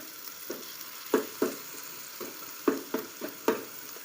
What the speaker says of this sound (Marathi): चांगले तेल सुटपर्यंत अशी परतून घ्यायचे